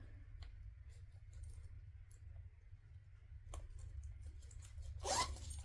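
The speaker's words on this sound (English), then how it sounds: "the next step after I get this zipper pull on" A metal zipper pull sliding along a zipper during sewing work, with a faint click early on, a few soft ticks, then a short louder rasping zip near the end over a low steady hum.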